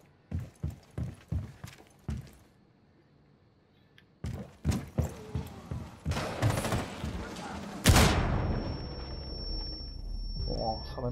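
Gunfire and explosions in Rainbow Six Siege, with rapid bursts of shots in rhythmic clusters, a loud blast near the middle and a ringing tone after it, all close and sharp.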